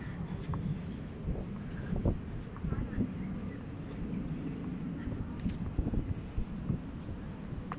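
Steady outdoor wind buffets the microphone on a hot, sunny walk near Sentosa Cove, a continuous broadband rush with occasional louder gusts and no speech.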